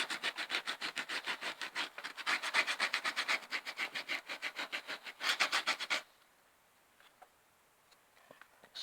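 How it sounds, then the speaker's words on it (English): A collagraph printing plate is rubbed briskly by hand in a fast, even back-and-forth rhythm of dry scratchy strokes for about six seconds. Near quiet follows, with a few faint ticks. "I'll just give it a good rub in there in the background."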